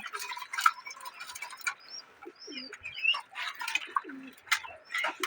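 Pet pigeons in a loft coo in soft low repeated phrases, mixed with sparrow-like chirps and tweets scattered throughout; the birds sound near but fairly quiet.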